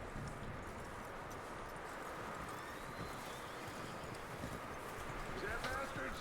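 Horse hooves clip-clopping in the video game Red Dead Redemption 2, soft steady hoofbeats under wind-like ambience and quiet game sound, with a brief bird-like chirp near the end and faint talk at times.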